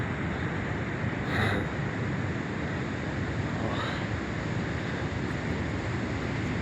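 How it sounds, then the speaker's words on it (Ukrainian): Raging ocean surf on a coastline in Peru, a steady broadband roar of breaking waves filling the whole clip with no one speaking, two brief brighter swells of surge standing out along the way. "І океан бушуючий"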